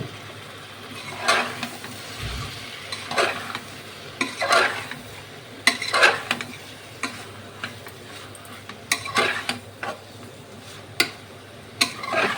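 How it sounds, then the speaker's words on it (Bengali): Mushrooms and green chilies fry in a pan, with repeated close scraping stirs and clacks of the utensil over a continuous low sizzle. "এবারে মাশরুম দেওয়ার পরে আবার ভালো করে মিক্স করে নিচ্ছি"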